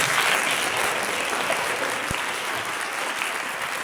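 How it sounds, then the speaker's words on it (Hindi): Congregation applauding during a gospel sermon, a broad, steady roar of many hands clapping at once, sustained and dense with a single low thump partway through. "हाथों वाले ताली बजा सकते हैं।"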